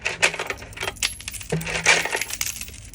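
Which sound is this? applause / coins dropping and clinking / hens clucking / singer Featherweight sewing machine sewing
coins dropping and clinking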